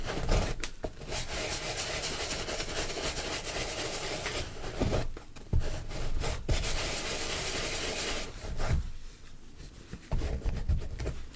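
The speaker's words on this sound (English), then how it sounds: "Wipe off that dirt." A brush scrubs dirt off Nike Dunk sneakers in long, close rasping strokes, continuous and fairly loud with a few short pauses between passes.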